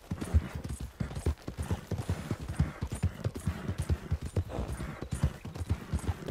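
Horse hooves galloping in Red Dead Redemption 2, a fast, rhythmic clip-clop of hoofbeats on the ground, close and continuous with a faint snort or whinny in the mix.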